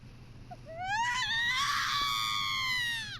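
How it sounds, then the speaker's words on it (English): A single scream rises and holds for a couple of seconds inside a video game, sounding somewhat distant, with no talk over it. "Suddenly, I heard a scream in the distance."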